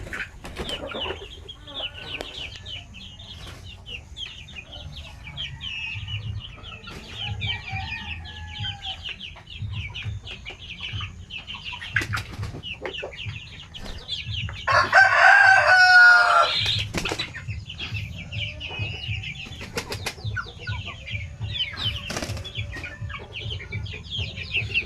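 A flock of native chickens, mostly young males, clucks and chatters steadily nearby, and a rooster breaks in with one loud crow partway through.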